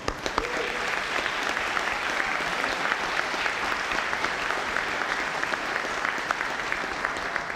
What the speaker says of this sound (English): And you may applaud.